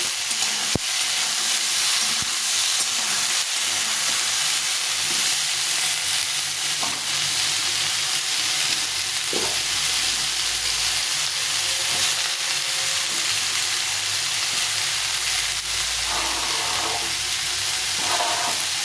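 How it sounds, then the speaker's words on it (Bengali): Eggplant pieces fry in hot oil in a pan for a mixed-vegetable ghonto, giving a steady broad sizzle throughout with a few soft clicks of a spatula against the pan, close and fairly loud, with no voices. "তারপরে দিলাম বেগুন এটা একটু ভেজে নিতে হবে"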